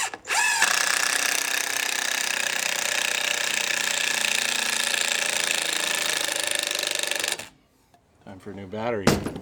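A cordless drill drives screws into wood while building a water wheel, its motor whining loud and steady for about seven seconds before cutting out, with a brief mechanical rattle after.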